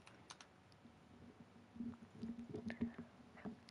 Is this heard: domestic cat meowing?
no